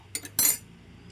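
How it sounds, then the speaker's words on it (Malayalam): Mustard seeds are dropped into hot oil in a pan, with a couple of light taps followed by a short, sharp burst of sizzle that quickly fades. "എണ്ണ ചൂടായിട്ടുണ്ട് അതിലേക്ക് ഇനി നമ്മൾ കടുക് ഇട്ട് കൊടുക്കുന്നു"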